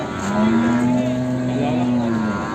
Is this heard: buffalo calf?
yes